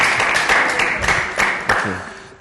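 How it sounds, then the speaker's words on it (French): An audience applauds at a comedy show, with continuous loud clapping and crowd noise while a voice speaks over it, and occasional sharper claps standing out. "On applaudit encore plus fort, plus fort, plus fort."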